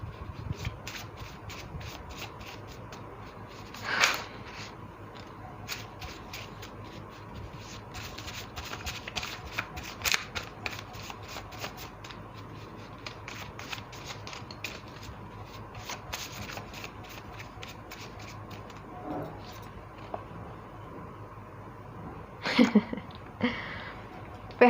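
Tarot cards shuffle by hand in repeated bursts of soft riffling and sliding, close and quiet, with brief louder slaps now and then.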